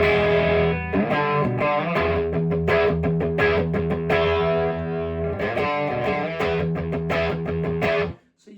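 Electric guitar played through a BOSS BP-1w pedal set to its RE-201 Space Echo preamp voicing, with distorted, warm, sustained chords strummed continuously and loud, then cut off abruptly near the end, with no talking.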